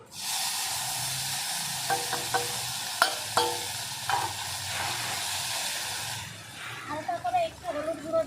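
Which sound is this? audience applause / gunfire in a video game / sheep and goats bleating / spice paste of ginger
spice paste of ginger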